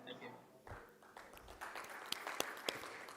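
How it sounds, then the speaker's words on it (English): Audience applause at a live conference awards session, a steady wash of clapping with a few sharper nearby claps standing out, partly under a voice speaking over it. "let's keep our applause going"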